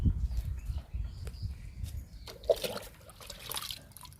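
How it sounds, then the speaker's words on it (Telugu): Aloe vera liquid is poured onto a potted jasmine plant, giving a faint, close trickle and splash of liquid, with soft handling noises and a brief brighter splatter midway. "ఇస్తున్నాను అలోవెరా లిక్విడ్"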